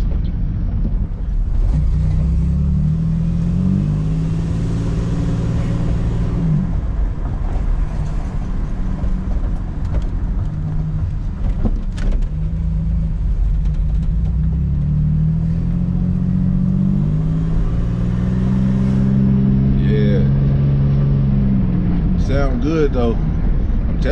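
A 1996 Chevrolet Impala SS engine runs steadily and rises in a few revs, a loud, low rumble heard up close while someone talks over it.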